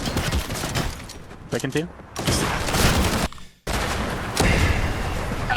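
Mythic assault rifle fire in a Fortnite competitive match: bursts of rapid automatic shots cutting in and out, loud and close, with a short silent gap midway and a voice speaking briefly over the noise.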